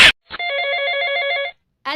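A telephone rings once with a bright, steady electronic trill for just over a second, close and clear, between short bursts of nearby speech.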